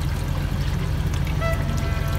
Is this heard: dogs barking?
no